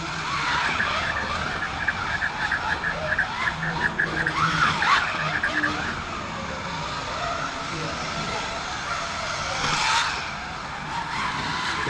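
Scalextric slot cars race around a track at a Hornby visitor centre, producing a continuous whirring motor whine with squealing, rising and falling tones as they lap close by, under occasional talk.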